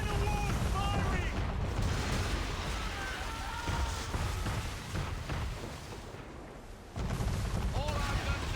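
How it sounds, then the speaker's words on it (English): Man-of-war warship cannon fire in the Assassin's Creed 3 naval battle rumbles as dense, heavy booms over a continuous roar of battle noise, loud and sustained, with a brief lull before the barrage swells again. "We're under attack! Man of war's firing!"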